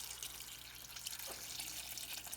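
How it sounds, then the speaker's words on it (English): Water running into a pot of chopped parsnips and other vegetables for Thai curried parsnip soup, a steady hissing pour with no breaks, fairly soft. "So we can put hot or cold water in."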